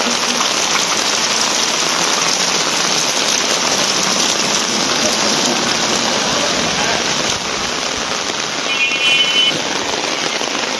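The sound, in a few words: rain falling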